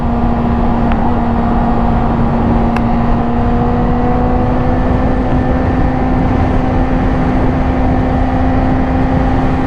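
A 2021 Honda CBR1000RR motorcycle engine runs at a steady, loud, droning pitch on a first ride, with a constant hum and no talking.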